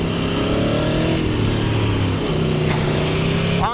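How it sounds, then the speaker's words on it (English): A 2016 Aprilia Tuono V4 1100 Factory ABS motorcycle's V4 engine wailing loud and continuous as it revs and pulls through the gears, pitch climbing and dropping in steady sweeps, close and alone. "But even more than the power and the insane acceleration of the thing, it's just the wail of the engine."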